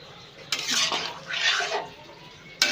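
Milk is stirred into Bengali shukto, a vegetable dish with boiled potatoes, in a pan. Two broad, wet swishing strokes are framed by sharp clicks of the utensil against the pan, close by.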